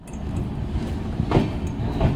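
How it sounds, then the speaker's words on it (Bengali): The 13147 Uttarbanga Express pulls out of Bolpur Shantiniketan station with a steady rolling rumble and a few soft clanks from the coaches, heard from on board and with no talk. "বোলপুর স্টেশন ছেড়ে দিল।"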